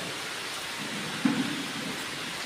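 Heavy rain falling as a steady, even hiss throughout, with a short low rumble of thunder near the middle, no talking.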